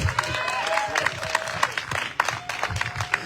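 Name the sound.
crowd applauding mayoral candidate at campaign kickoff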